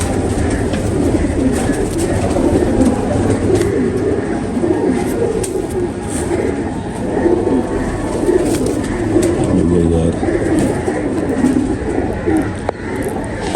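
Several pigeons coo continuously in a loft, overlapping rolling low calls rising and falling close by, loud and without speech.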